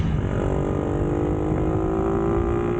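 Motorcycle exhaust during a ride, a steady engine drone with a slowly rising tone, heard continuously under a layer of wind rush, with no talking.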